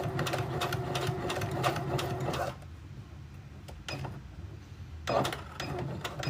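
A sewing machine stitches across nested seams in bursts of rapid clattering, with a brief lull and then a restart.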